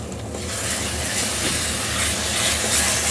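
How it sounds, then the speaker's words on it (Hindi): Garlic ginger paste fries with onions in hot oil for a mutton kofta curry, giving a steady, dense sizzling hiss close up that continues throughout without talk. "अब इसको डालकर 1-2 मिनट तक अच्छे से भून लें"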